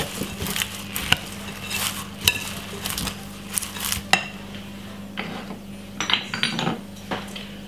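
Spoon stirring cold rice salad with red pepper in a bowl, giving close clinks and scraping against the dish in an uneven rhythm, with a low steady background hum and no talk.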